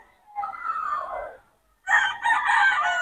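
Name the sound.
roosters crowing at chicken farm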